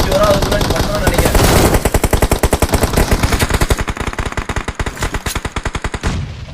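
Machine gun fire in the mobile battle-royale game BGMI: a long, loud, close burst of rapid, evenly spaced shots, about forty rounds, rattling continuously for roughly six seconds before cutting off.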